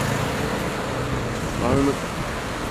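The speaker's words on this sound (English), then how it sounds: "A lot of cars here, a lot of noise here." Steady traffic noise from cars in a town center in May, a broad continuous roar close by with one vehicle briefly louder as it passes, no talk.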